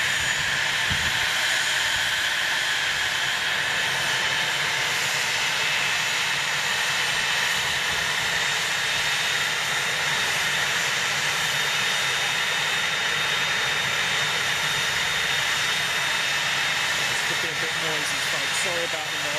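Loud, constant jet engine roar from aircraft at Boeing Field, a dense broadband whine and rumble filling the whole stretch without letting up.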